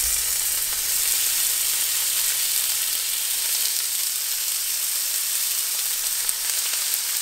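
Steak meat for a Philly cheesesteak sizzles steadily in a hot pan, a constant close frying hiss with no break and no voices.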